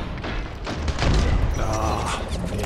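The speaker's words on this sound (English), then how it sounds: "Grenade!" A grenade detonates in the first-person shooter Ballistic Overkill, a heavy booming thud that rolls into a sustained rumble and crackle of battle noise.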